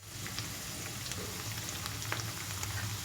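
Curry leaves crackle and sizzle in hot oil for a cucumber and okra curry, giving a steady close frying hiss with small pops throughout and no voices.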